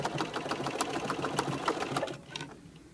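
A sewing machine stitches quilt binding close to the edge with a decorative stitch, a steady rapid mechanical whir and needle patter running close for about two seconds, then stopping.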